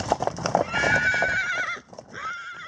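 Racing horses in their stables whinny loudly and clearly, with hooves thudding and shuffling underneath at the start.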